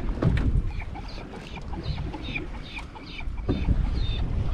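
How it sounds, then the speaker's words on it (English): Seagulls call repeatedly near a fishing boat out cod fishing, a series of short, shrill cries layered over steady wind and boat noise. "Even the seagulls enjoying it."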